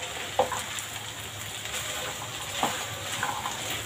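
Black chickpea curry seasoned with Khatri garam masala being stirred in a pan: a steady sizzle and frying hiss with a few soft spoon scrapes and clicks, no voices.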